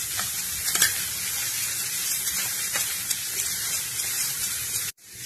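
Onions sauté in hot ghee for onion kheer, giving a dense, loud, continuous sizzling hiss close by with a few stirring scrapes, cutting off abruptly near the end.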